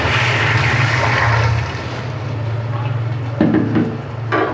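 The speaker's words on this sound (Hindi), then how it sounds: "अब मैं इसके अंदर पानी डाल रहा हूँ।" Water poured into a cooking pot while making potato tahiri, a steady rushing gush that runs loud for a few seconds, then slows and sputters with a few light knocks toward the end.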